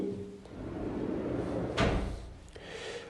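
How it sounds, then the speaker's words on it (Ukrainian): A bathroom vanity drawer on Blum partial-extension tandem runners slides and shuts, giving two short soft knocks against a low room hum, with no talking. "дві шухляди на тандемах часткового висуву фірми Bloom"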